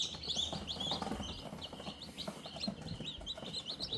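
Newly hatched chicks on a farm peep in a steady chorus of quick, high chirps, close and fairly soft, with low background noise beneath.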